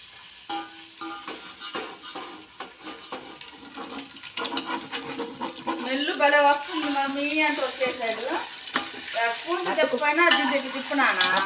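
Eggs fry in a pan and are turned with a spoon, giving a steady sizzle with scraping knocks that grows louder, while voices talk over the second half.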